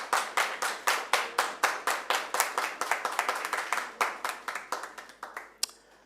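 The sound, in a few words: applause for debate teams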